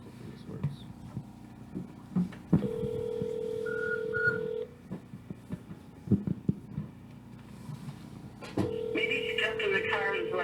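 A telephone call to a home phone from a village council meeting room: dialing tones and steady ringback tones sound through a speaker, interrupted by clatter and brief talk.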